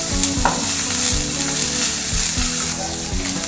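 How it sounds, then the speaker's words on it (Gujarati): Vegetables being stirred and roasted in a pan over a high gas flame, with a steady loud sizzle and scraping stirs, close up and without talk. "આપણે એને પૂરી નથી પકાવવાની, બસ થોડુંક હલકું એવું શેકવાનું છે અને ગેસ થોડોક ફાસ્ટ રાખવાનો છે"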